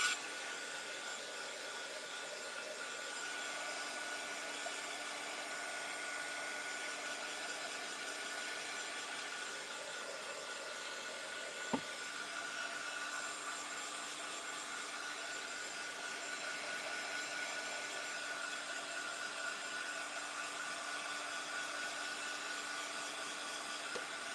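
A dryer blows a steady, continuous rush of air onto a handmade jewelry box craft project, an even whooshing hum that holds unbroken for the whole stretch with one brief click near the middle.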